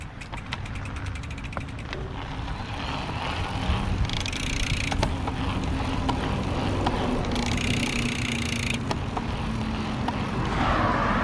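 Bulls Wild Flow Evo RS electric mountain bike ridden on a gravel trail at the highest assist level, with a steady low drone and whir under rolling tire and wind noise, plus scattered clicks and rattles.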